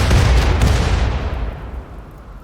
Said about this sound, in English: Actually, we'll just have them keep mortaring.